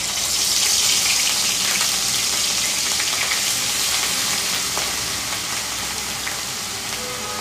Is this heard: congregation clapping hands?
no